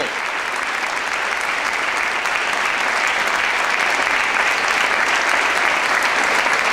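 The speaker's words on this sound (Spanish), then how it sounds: "Le damos un aplauso." A church congregation applauds during a sermon, a loud, sustained and even roar of many hands clapping together with no voice above it.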